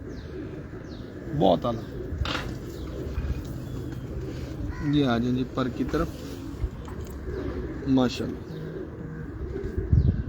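Pigeons in a Karachi loft coo in short rippling calls at about 1.5, 5 and 8 seconds, with faint chirps between, while someone talks over them throughout.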